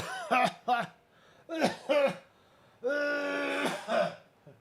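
A person coughs in several rough bursts after mint tea goes down the wrong way, then clears their throat with a longer strained rasp, close and fairly loud.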